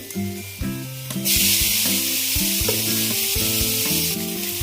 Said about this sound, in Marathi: आपला टोमॅटो पण इथे फ्राय झालेला आहे